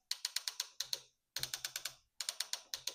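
Ratchet joints of a Miniforce Dinoid Rex Kaiser Black Edition toy clicking in three quick bursts of sharp plastic clicks, each burst about five or six clicks, close and alone.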